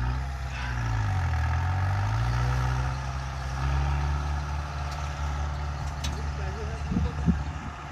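A tempo three-wheeler engine starts and runs at a steady low, rough idle near the listener, continuing under people talking throughout.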